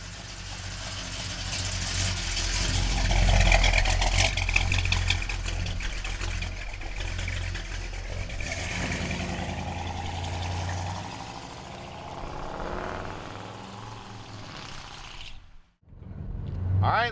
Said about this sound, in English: Listen to that exhaust. Man, does she sound good.